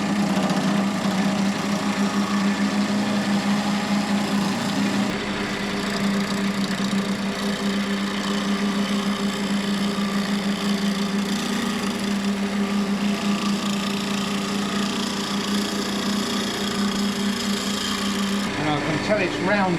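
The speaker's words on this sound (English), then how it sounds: "So now I think I'm going to turn the lathe speed up a bit more." A wood lathe spins an olive log at a raised speed, giving a steady, loud mechanical drone with a rhythmic hum, and a shift in tone near the end.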